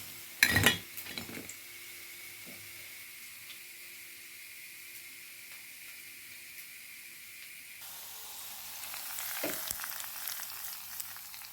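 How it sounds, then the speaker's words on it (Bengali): Onions fry in oil for a khichuri garnish, producing a soft, steady sizzling hiss nearby after a brief clatter of utensils at the start, growing slightly louder near the end. "আর এদিকে আমি খিচুড়ির দাগনি দেওয়ার জন্য পেঁয়াজ ভেজে নিলাম"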